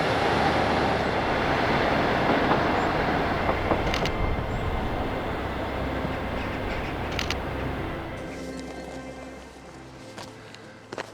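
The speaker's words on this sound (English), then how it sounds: "a train coming up from Dryclough Junction through" A train rumbles past steadily on a pair of tracks in a northern English mill town in winter, with broadband noise and a few sharp clanks along the way, then fades as it moves off.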